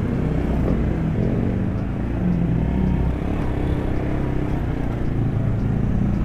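A Honda Supra Bapack V.2 motorcycle being ridden, its engine a steady low drone mixed with wind rush, continuous and unbroken.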